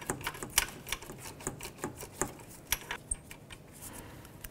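A wrench ratchets on a 10 mm nut at the starter of a 2012-2020 Ford Focus, giving quick, sharp metallic clicks in uneven bursts, close and fairly quiet, with no speech.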